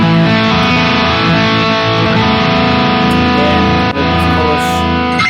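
High-gain electric guitar through a Harley Benton DNAfx Git Pro multi-effects unit on a Mesa Rectifier-style high-gain preset, a thick, loud, sustained distorted wall of chords ringing continuously with a brief dip near the end.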